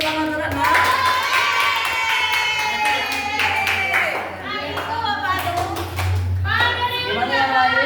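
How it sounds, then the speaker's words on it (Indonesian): A class claps for a student during a civics lesson on cultural diversity, with children's voices mixed into a steady run of hand claps that fades briefly mid-clip before picking up again. "Boleh kasih tepuk tangan untuk Rana?"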